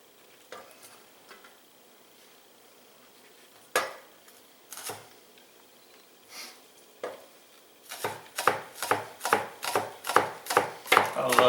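A knife chops scallions on a cutting board, a few scattered soft taps at first and then a quicker, steady run of crisp knocks, close up and fairly quiet.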